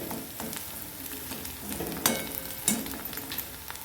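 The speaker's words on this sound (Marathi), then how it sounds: "आपला कांदा छान मऊ झालेला आहे मस्त तर आपल्याला ह्याच्यामध्ये थोडीशी हळद टाकून द्यायची आणि सर्व परत मिक्स करायचे" Softened onions with turmeric sizzle gently in an oiled frying pan while a spoon stirs them, giving a low continuous fry broken by a couple of distinct scraping knocks.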